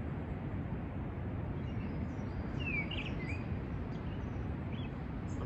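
A mistle thrush sings in a garden, its brief clear phrases faint and distant over a steady broadband outdoor rumble.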